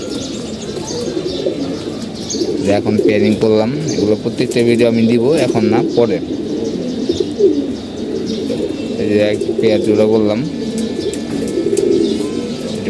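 Pigeons coo repeatedly in a loft of gulla and chila pigeons, soft throaty calls with some chirps running steadily beneath someone talking close by.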